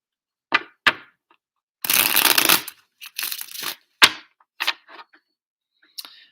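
Crisp snaps and a longer riffling burst of cards being shuffled, followed by scattered light clicks and taps in a quiet room.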